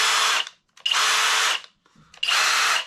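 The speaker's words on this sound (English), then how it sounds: "So, drill and driver kit" A Kobalt cordless drill driver whirs in three loud, close bursts of steady high-pitched motor noise with short silent gaps between them.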